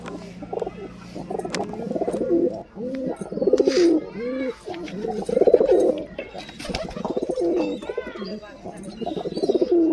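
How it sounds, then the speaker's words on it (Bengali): Giribaz pigeons coo close by in repeated soft throaty bursts, with rustling and a voice talking over them at times. "দুটো ঝুটি পায়রা, খালি কোয়ালিটি দেখেন"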